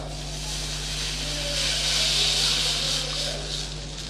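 Tamarind water poured into a hot sautéed rasam base in a pan, a loud steady hiss of steam that swells in the middle and eases off, with a low hum beneath.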